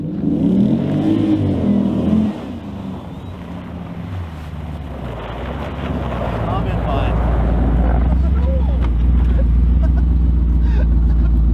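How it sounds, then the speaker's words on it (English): A Jeep SRT with a new exhaust produces a deep, low engine rumble that builds and swells into a sustained, heavy drone. Wind buffets the microphone, and people talk over the sound. "Putting exhaust on that. The thing sounds sick as it is."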